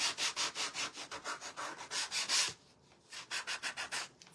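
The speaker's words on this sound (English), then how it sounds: "just go over it real light with some sandpaper" Light strokes of sandpaper rubbing back and forth over a surface, a quick, steady run of scratchy strokes that pauses briefly, then resumes.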